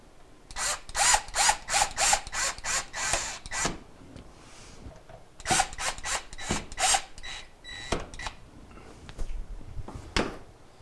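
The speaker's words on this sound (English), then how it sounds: "Go ahead and put the two mounting screws in." Power driver running mounting screws into a KitchenAid dishwasher during a door repair, several bursts of whirring with pauses between, close and fairly loud, no talking.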